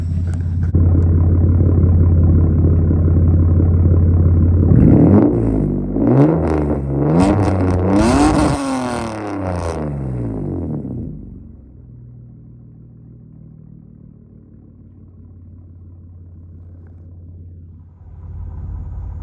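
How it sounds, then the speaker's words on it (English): A Bad Blood car's engine rumbles at idle, then its exhaust revs sharply several times with rising and falling pitch, before settling back into a low, steady idle. "we'll see if we can get some exhaust notes just so you can hear what it sounds like"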